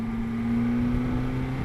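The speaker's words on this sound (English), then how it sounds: "So this exhaust is a lot calmer for some reason." A second-generation BMW S1000XR adventure touring motorcycle idles with a calm, deep, steady exhaust drone, close and continuous, without pops or crackles.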